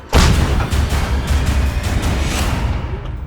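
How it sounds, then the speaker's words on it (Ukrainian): One loud artillery gun fires near Pokrovsk, Ukraine, with a sharp, heavy boom that rolls on and slowly fades for a few seconds. "Гармата! Постріл!"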